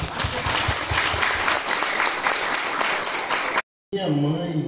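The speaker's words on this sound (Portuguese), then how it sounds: "Vamos aplaudir." An audience gives lively, full applause during a talk about Corisco and Dadá. The clapping runs steadily for several seconds, breaks off abruptly, and then a voice speaks.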